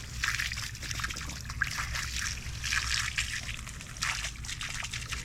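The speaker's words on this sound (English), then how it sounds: "Just going to wash everything real thoroughly" Running water trickles and splashes steadily over a cleaned hog skull during a thorough rinse, a continuous close wash with a low background hum and no talking.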